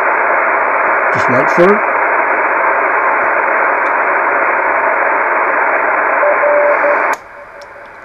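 A 70cm EME radio signal bounced off the moon, received with the preamp on, sits under a constant loud band of hiss with a faint tone, briefly overlaid by a spoken phrase, before the noise drops sharply near the end.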